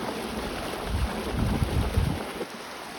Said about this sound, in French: le bruit de l'eau qui coule